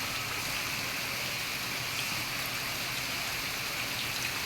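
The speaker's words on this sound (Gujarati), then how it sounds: "ખૂબ જ સારો એવો વરસાદ પડી રહ્યો છે" Heavy first monsoon rain falls in a dense, even hiss that continues without a break.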